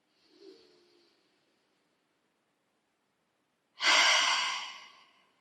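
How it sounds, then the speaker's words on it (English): A person takes a deep inhalation during a deep-breathing exercise: a faint short breath at first, then after a silence a loud, close, airy intake that swells and slowly fades. "So when you breathe in,"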